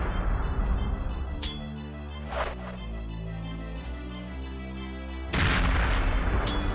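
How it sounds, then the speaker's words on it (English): Grenades blast in the shooter Perfect Dark, with several deep booming explosions rolling over a dense, continuous rumble of game noise, the loudest blasts near the start and the end. "None of these grenades are landing where I need them to."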